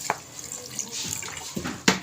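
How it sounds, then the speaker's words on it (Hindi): Water splashes and trickles as it is poured into a cooking pot holding cut potato pieces, with a few louder splashes over a steady liquid hiss in a home kitchen. "तकरीबन 1 कप मैंने पानी का इसमें ऐड कर दिया है"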